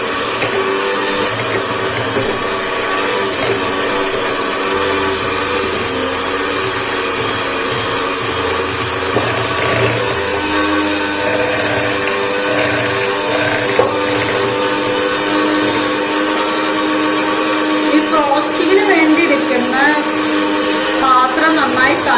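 An electric beater whips one cup of whipping cream in a chilled bowl for cake frosting, giving a loud, steady motor whir throughout with a voice talking over it.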